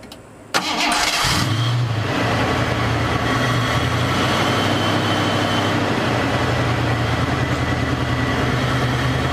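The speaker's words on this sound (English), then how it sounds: "let's start the car." A Cougar car engine with new battery terminals and a recent misfire cranks briefly, catches and settles into a steady rumbling idle that runs on, loud and close.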